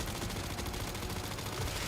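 Rapid gunfire in Resident Evil Requiem with armed zombies, a continuous dense stream of shots with no pauses, steady and moderately loud.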